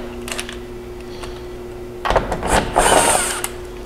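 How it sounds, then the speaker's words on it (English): An impact driver with a 10 mm socket removes windshield straps on a Kawasaki Mule Pro FXT, giving a short, loud mechanical burst of hammering whir after a quiet stretch. "remove these straps with a 10 mil socket and an impact"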